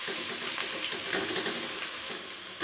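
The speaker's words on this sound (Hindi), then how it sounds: "प्याज थोड़ा सा फ्राई हो गया है" Onions frying in a pan for chicken pasta, a soft continuous sizzle with light bubbling crackle, close and fairly quiet, no talking.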